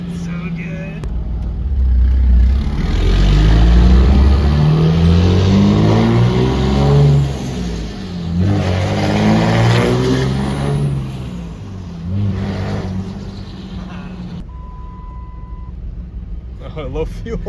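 A 6.7 Cummins diesel pickup with a non-VGT S363 turbo swap revs and pulls through gears while driving, loud and close, with turbo whistle on top of the engine note and people talking over it inside the cab.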